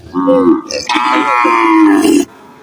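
A cow moos loudly and close by at an outdoor cattle market in Narayanhat, Fatikchhari, Chattogram, one long drawn-out call that rises and then cuts off.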